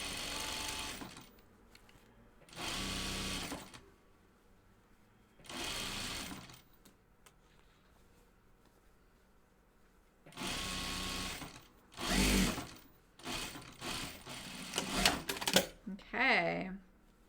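Sewing machine top-stitching the cuff of a pair of denim jeans, with several loud bursts of fast stitching separated by quiet stretches; a person talks near the end.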